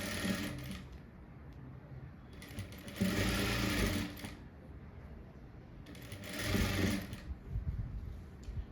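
A sewing machine stitches lace onto a blouse neck in bursts of steady, buzzing running, about three short runs with quieter pauses between them, close and fairly soft.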